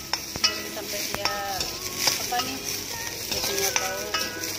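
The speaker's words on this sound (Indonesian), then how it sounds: "Oke, kasi goreng dia dengan minyak yang sedikit juga" Chilies frying in a little oil, crackling and sizzling steadily while a utensil stirs and scrapes the pan with repeated clinks, close and fairly loud.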